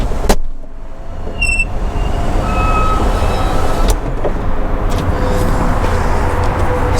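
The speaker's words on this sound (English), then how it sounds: "So we're gonna put the roof up. And completely close it." A 2005 Mini Cooper S Convertible closing its power roof, a steady electric motor whine running close and loud throughout, with a few light clicks and mechanical clunks along the way.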